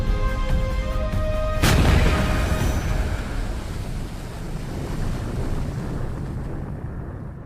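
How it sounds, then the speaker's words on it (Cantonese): A deep, muffled boom of a torpedo exploding underwater, heard from a submarine, rumbles out and fades slowly into a long low roar, heavy and dull as if heard through water. "听到鱼雷爆炸声"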